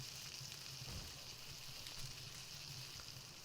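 Mushrooms sizzling as they cook in the video game Palworld, a faint, steady frying crackle with no talking.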